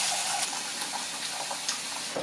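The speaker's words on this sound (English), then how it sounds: "The bigger one I filled about halfway with water" A large pot being filled about halfway with water, a steady faint gushing and splashing of running water throughout a short span, with nobody talking.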